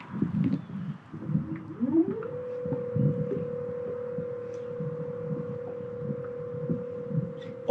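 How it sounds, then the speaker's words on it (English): A small fishing boat's outboard motor sputters, catches and rises into a steady, even hum that holds alone and close, with light water and wind noise underneath. "Let me get this motor going."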